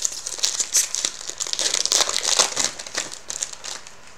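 A 2013-14 SP Authentic hockey card pack is torn open, a close, continuous run of crinkly foil wrapper crackling and ripping for a few seconds, with no talk.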